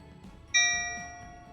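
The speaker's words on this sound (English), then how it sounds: "it went ahead and played a bell." A single clear bell chime rings out at the end of a Canva countdown timer, struck once and ringing on as a bright, sustained tone that slowly fades.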